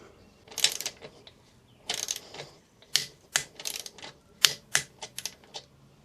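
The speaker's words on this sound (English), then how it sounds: "So again, we'll use the torque wrench." Torque wrench tightening an exhaust clamp on a Honda NX500 motorcycle: a series of sharp, close metallic clicks in short bursts, spaced irregularly with brief pauses between them, and no talking.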